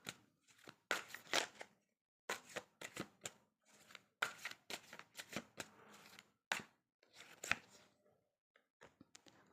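Tarot cards are shuffled and drawn by hand, quiet bursts of riffling and flicking card noise in short clusters separated by brief silences, close and soft, with no talk.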